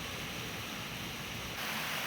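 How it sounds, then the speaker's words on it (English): Small waterfalls tumble through a stream on the escarpment at St. Catharines, a steady broadband rush of falling water that fills the whole clip, close and continuous with no voices. "it was just nice seeing the different waterfalls, like little waterfalls."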